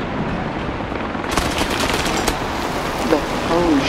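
Machine-gun fire striking a tank in War Thunder, a continuous rattling barrage of close rapid impacts under steady engine rumble, with a few sharper hits and faint brief sounds near the end.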